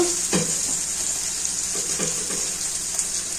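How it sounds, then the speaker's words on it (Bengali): Steady sizzling of onions frying in a pan, with a few scraping stirs and faint clinks; no one talks. "পেঁয়াজ ভাজা হয়ে গিয়েছে"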